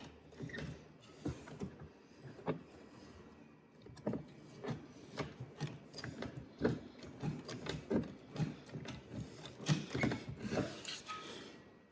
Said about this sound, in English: Rivet gun just wasn't gripping the plastic very well.